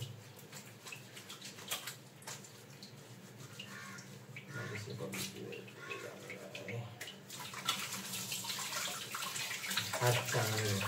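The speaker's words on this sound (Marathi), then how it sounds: "हात चांगले धुवायला लागते" Running water splashes steadily at a sink as hands are washed after handling raw mutton, with people talking over the continuous flow.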